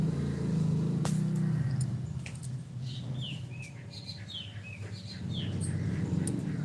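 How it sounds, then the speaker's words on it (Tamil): A few short, high bird chirps in quick succession outdoors, over a low background hum and faint distant traffic. "பறவைகள் சவுண்டு கேட்குது."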